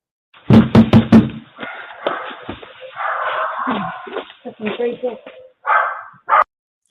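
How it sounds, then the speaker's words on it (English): A woman knocks on a front door, caught on a Ring doorbell camera: four sharp, loud raps in quick succession open the clip, followed by steady talking and a dog barking nearby. "she started like banging on the doors and the gates"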